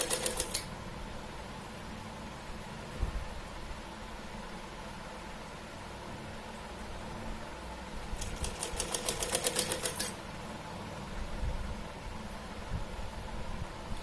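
A sewing machine stitches a Laddu Gopal summer dress in short rapid bursts of rattling needle strokes, with a quieter hum and steady background noise between runs.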